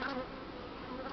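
A Buckfast honey bee buzzes steadily close by, a continuous droning hum that wavers slightly as it flies around, with no voices.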